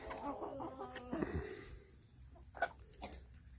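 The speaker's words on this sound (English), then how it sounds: "But that's the chickens." Backyard chickens cluck and fuss close by in a pen, with short, uneven bursts of calls early on and then scattered softer clucks against a quiet outdoor background.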